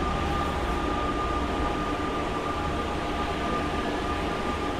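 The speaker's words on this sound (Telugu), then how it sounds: "మెట్రో అయితే ఎక్కేసాం గైస్" A Paris metro train runs through a tunnel with a loud, steady rumbling roar and a faint sustained whine, heard from inside the car.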